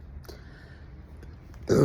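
A person burps after overeating, with a short, loud, low belch near the end following quiet, faint throat and breath noises.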